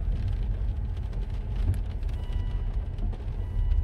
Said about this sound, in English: It's raining and then cold, so much better to just drive there.